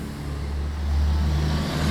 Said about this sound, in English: she heard the roar of a huge 18-wheeler coming up Hobart Avenue behind her